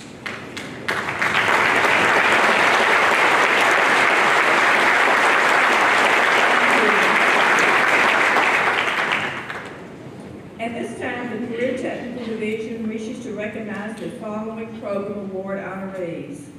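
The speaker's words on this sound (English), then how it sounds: "please hold your applause until this group has all been recognized" An audience at an honors evening bursts into loud, sustained applause that fills the room for several seconds, then cuts off as a voice begins speaking over the fading claps.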